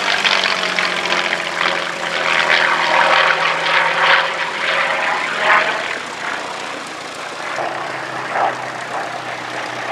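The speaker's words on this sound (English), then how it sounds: "the engine in this aircraft is an Allison engine" A Yak-3 fighter fitted with an Allison engine flies at an airshow, its propeller engine droning steadily from a distance and swelling and fading as it passes, with no speech.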